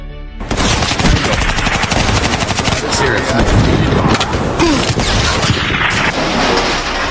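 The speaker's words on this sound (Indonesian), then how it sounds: "Baku tembak meledak" Dense, rapid gunfire fills a film action scene of a shootout and car chase, with continuous bursts and heavy volleys that stay loud and close throughout.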